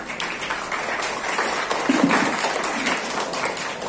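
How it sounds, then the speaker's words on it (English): Steady applause from a workshop audience, dense clapping at an even level throughout with no talking. "Please give a warm applause to them"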